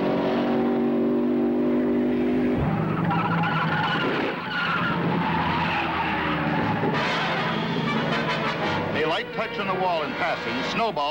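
A race car at the 1966 Indianapolis 500 skids into a jolting crash during qualifying, with loud, continuous engine and tire noise throughout, a sharp shift partway through and a commentator talking over it.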